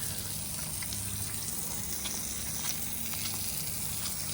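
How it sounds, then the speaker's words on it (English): Water gushes steadily from a flush hose while a boat is rinsed during a deep clean, a constant broad rushing and spattering hiss at moderate level with no pauses and no talk. "Water's coming out everywhere, so I guess it is getting everywhere."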